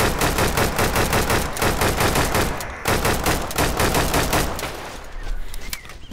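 Rapid gunfire rattles in Deadside gameplay, dense close bursts of automatic shots that fire almost nonstop, pause briefly, then resume before thinning out.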